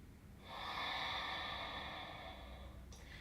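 A single slow, deep breath during yoga practice: one long, airy exhale that swells, holds steady for a couple of seconds and fades, close and alone.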